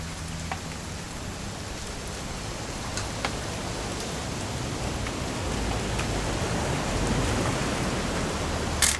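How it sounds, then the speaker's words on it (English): Steady rain falls in the video game What Remains of Edith Finch, a constant broadband hiss of drops on surfaces with a few sharper droplet ticks, even and unbroken throughout. "It's gonna rain the whole weekend, isn't it?"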